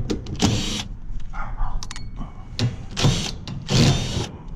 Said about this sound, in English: Let's take some screws out.